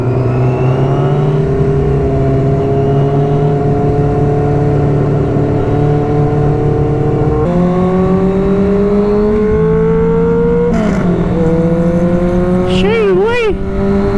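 Loud car engine revving hard through an open header exhaust downtown, with sustained throttle blips and pitch rising and falling, gear changes and a burning clutch, close by and dominating, with brief speech mixed in.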